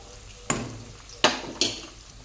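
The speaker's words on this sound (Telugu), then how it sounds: "ఒక్కసారి ఇలా కలుపుకొని కాస్తంత ఉల్లిపాయలు రంగు మారేంత వరకు వేయించుకుందాం" Onions and green chilies fry in a pan over a faint sizzle while a utensil scrapes and knocks against it in three short, distinct strokes.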